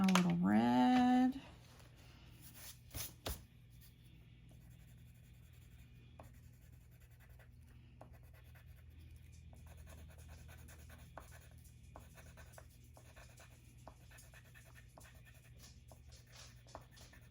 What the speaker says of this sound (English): So first I'm going to color this just with some watercolor pencils.